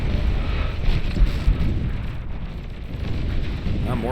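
Heavy, rumbling blasts from EMP missile launches and explosions in the strategy game Beyond All Reason roll on without a break, a deep, loud, dense roar with thuds near the start.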